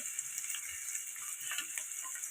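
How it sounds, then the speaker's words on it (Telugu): Dried fish frying in hot oil with onions in a pan, a soft steady sizzle with faint crackles and light ticking pops, quiet and close. "ఇవి కూడా ఫ్రై అయ్యిందాక ఫ్రై చేసుకున్నాం"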